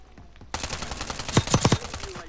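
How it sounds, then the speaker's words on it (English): Rapid gunfire bursts from the Warzone (Black Ops 6) resurgence mode, with an enemy firing from a rooftop: a cluster of sharp, loud shots crackling in quick succession over steady game ambience. "He's on the roof, bro. He's shooting at you."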